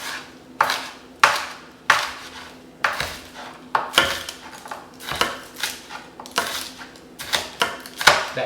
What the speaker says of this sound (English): That green onion is kind of hard to cut.